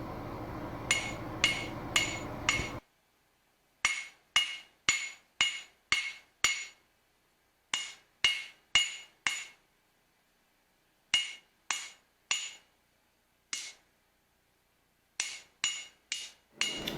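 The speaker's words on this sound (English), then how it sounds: "we can go ahead and speed up our hammering process and get that taper elongated out a little bit more" Ringing hammer blows on hot metal, forging a taper, in quick rhythmic bursts of four to six strikes, separated by short pauses, close and sharp.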